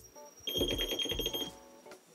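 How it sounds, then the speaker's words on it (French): A Foil Drive electric surf motor beeps when its battery is connected: a quick series of bright, clean electronic tones over a low buzzing motor vibration, close and fairly quiet, lasting about a second. "tu as ces petits bip bip que tu vas entendre qui signifient que la batterie et le foil drive sont bien connectés"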